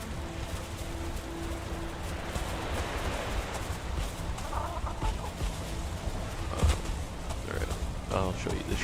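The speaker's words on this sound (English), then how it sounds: "Oh, our chickens" Chickens clucking inside a coop in the Viking survival game Valheim, steady bird calls mixed with ambient game noise, with people talking over them throughout.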